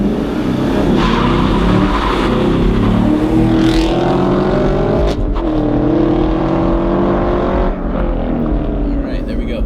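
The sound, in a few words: Chevy Camaro SS accelerating on a 0 to 60 run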